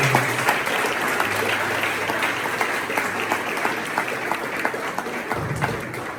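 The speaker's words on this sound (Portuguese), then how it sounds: "Se você crê nisso, dá uma poderosa salva de palmas." A church congregation at a youth revival service bursts into sustained, steady applause, a thick continuous wall of clapping with a low voice briefly surfacing beneath it.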